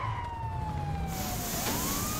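A police car siren wails in Grand Theft Auto V, a sweeping tone that glides down and then rises again over a low rumble of traffic and engine noise, fairly close and prominent.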